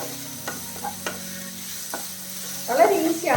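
Onions sautéing in a pan for a Punjabi-style dal tadka give a low, steady sizzle with a few sharp utensil clinks, then a louder burst of frying and stirring near the end. No one speaks.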